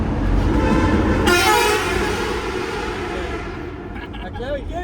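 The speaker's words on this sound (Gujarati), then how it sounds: "આ ટુનલ માં કેવી બધાને મજા આવે હોરન મારવાની" Vehicle horns honk and blare inside a road tunnel near Nainital, echoing loudly with long overlapping blasts, while people talk beneath the din.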